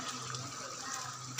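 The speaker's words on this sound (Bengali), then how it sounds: "এই জন্য গরম জল দিলাম।" Hot water pours into mutton liver curry in a pan as a brief, steady splashing rush at close range, with no talk.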